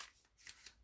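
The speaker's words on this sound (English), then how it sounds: "So we got to shuffle." A deck of Hermitcraft TCG trading cards being shuffled by hand gives a few soft, quiet riffling swishes in quick succession, with no one talking.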